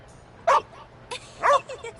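A dog in the video game The Inquisitor gives two short, sharp barks about a second apart, close and loud, each followed by a softer yip against a quiet background.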